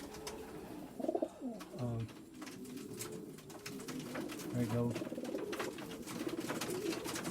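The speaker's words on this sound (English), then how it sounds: "Love that pigeon." Racing pigeons coo in a low, throaty burble at a South Africa million dollar pigeon race, the soft calls rising and falling beneath a brief spoken remark and background clatter.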